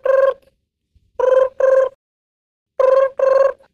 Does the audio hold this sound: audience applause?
no